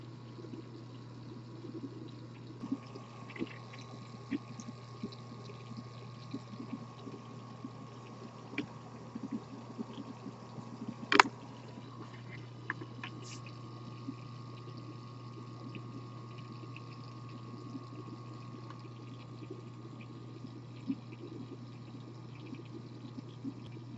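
A homemade tin can still distilling, with a quiet steady hum and faint liquid trickling and occasional small clicks and drips, low and continuous throughout.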